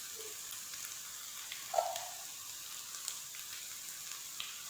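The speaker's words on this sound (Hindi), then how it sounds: "तो अच्छे से आप लोगों को भून लेना है मसाले को।" Spices with ground dry coriander and masala powder fry for chicken karahi, giving a soft, steady sizzle with a brief clink of a spoon against the pan. No one speaks.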